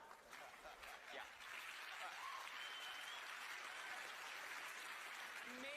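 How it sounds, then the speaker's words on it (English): An audience at a comedy magic show applauds in a steady wash of clapping that swells after the first second and holds, faint and slightly distant. "Maybe, just maybe you're applauding because you think I am Jesus."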